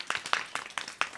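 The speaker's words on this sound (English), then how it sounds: "So let's give Abigail a round of applause." A few people clap in short, uneven bursts, a small scattered round of applause nearby for a speaker at a Gartner event.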